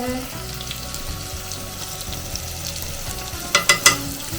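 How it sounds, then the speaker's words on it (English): Pilau with pilau masala spice cooking in a pan, giving a steady sizzling hiss throughout, with a few clattering knocks near the end as it is stirred. "We're also gonna add the pilau masala spice. Put them to cooking together."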